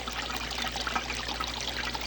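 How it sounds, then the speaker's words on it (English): Water runs in a steady, faint trickle over a sluice mat during a gold concentrate cleanup by Lake Superior, a continuous close wash with a low hum underneath and no voices. "I left the water running this time just so you can see that we're still capturing gold"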